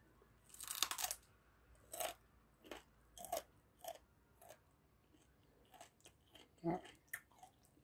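A raw wild root with a strong wasabi-like bite is crunched and chewed up close, with a loud first bite followed by scattered, irregular crunches and quieter chewing.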